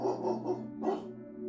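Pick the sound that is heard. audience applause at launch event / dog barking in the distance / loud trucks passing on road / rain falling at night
dog barking in the distance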